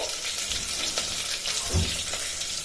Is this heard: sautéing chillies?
yes